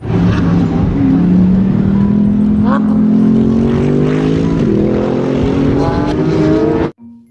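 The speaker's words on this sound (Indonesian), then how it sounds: "Mobil balap Lamborghini teman-teman." A toy Lamborghini race car gives a loud, buzzing engine tone that climbs slowly in pitch, propeller-like and steady, then cuts off sharply near the end.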